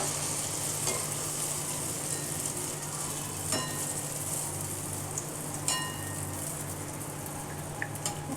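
Palm fruit fritters (taler bora) fry in hot oil with a continuous, even crackling sizzle and occasional small clinks, heard close with no talking.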